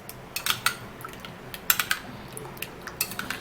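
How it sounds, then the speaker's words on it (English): A spoon stirs a skin remedy mixture in a small bowl, giving light, quiet clinks and scrapes in an irregular run, some close together and others spaced out, with no voices. "I'm actually gonna be stirring this all up"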